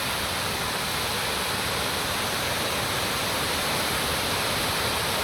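Floodwater after heavy rain rushes past in a steady, dense roar, unbroken and fairly close throughout, with no voices.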